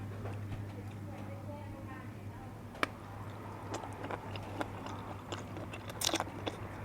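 Crunchy pig ear served with bitter and sour jaeo dipping sauces, crackling between the teeth in a series of close, irregular bites and chews over a steady low hum, louder crunches clustering near the end.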